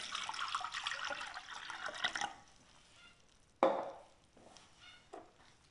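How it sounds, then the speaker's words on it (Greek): Tap water runs into a cooking pot for eggplant pickling brine, a steady splashing stream that stops partway, followed by a couple of sharp drips or knocks against the pot in a quiet kitchen. "Σε ένα σκεύος βάζω νερό."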